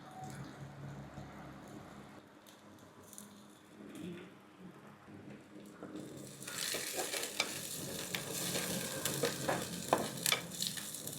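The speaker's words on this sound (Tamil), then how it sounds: "கடுகு வெந்தயம் சீரகம் பொரிஞ்சிட்டு அந்த நேரத்திலேயே வெங்காயத்தை போடுவோம்" Onions dropped into hot oil with popped mustard seeds, fenugreek and cumin for a Jaffna-style okra curry, starting as a soft crackle and then turning into a loud, steady sizzle with stirring for the second half.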